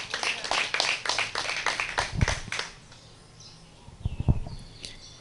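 Congregation breaks into scattered applause during a church service, a dense run of claps filling the first few seconds before tapering to a few isolated claps and light rustle.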